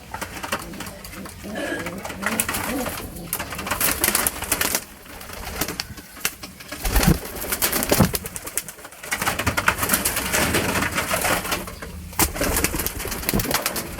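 Young homing pigeon squabs coo and shuffle inside a cage they have just been put into for the first time, a dense, continuous murmur of soft calls with occasional wing flutters and background noise.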